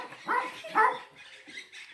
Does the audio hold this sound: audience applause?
no